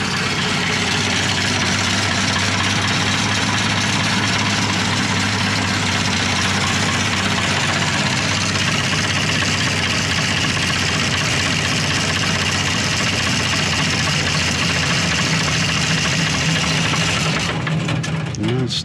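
A Perkins diesel engine in a LeRoi 185 air compressor, its CAV injection pump faulty, idles loud and steady with a rough, knocking rumble, then cuts off abruptly near the end.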